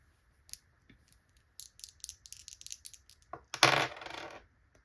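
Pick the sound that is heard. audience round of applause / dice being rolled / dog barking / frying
dice being rolled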